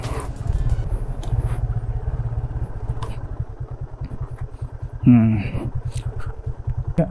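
A motorcycle riding down a steep off-road slope in a river canyon, its engine chugging steadily close by, while a person speaks briefly over the pulsing exhaust.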